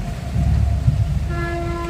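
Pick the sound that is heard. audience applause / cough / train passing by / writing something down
train passing by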